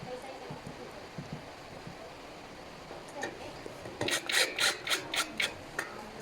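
Screws are driven into a metal three-drawer mobile pedestal during assembly, with faint scraping early on, then a quick run of sharp rasping turns near the end.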